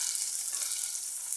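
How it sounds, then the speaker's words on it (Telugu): Mashed matikkaya thokku dropped into hot tempering oil for deep frying in a Rayalaseema-style preparation. It sizzles in a close, steady, bright crackle throughout the short stretch, and no one speaks. "ఇలా తొక్కుని పోపులోకి వేసిన తర్వాత"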